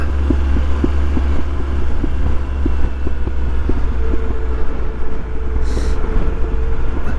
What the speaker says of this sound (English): That exhaust popping and banging.